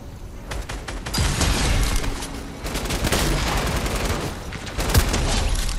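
Rapid pistol shots crack out in quick succession in Fortnite. The loud bursts repeat over several seconds with brief uneven gaps, close and unaccompanied by speech.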